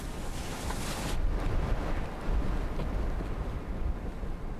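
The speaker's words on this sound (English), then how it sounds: "Wind speeds exceeding 20 meters per second prevent the team from climbing." Strong wind roars across a high camp on Mount McKinley, with gusts above 20 meters per second buffeting the microphone in a dense, continuous rumble that swells and eases without a break.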